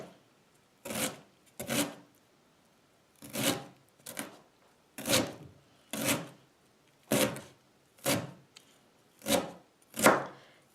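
Wild fennel branches chopped finely with a knife on a board: ten crisp cuts in a fairly steady rhythm, close and clear, separated by short silences.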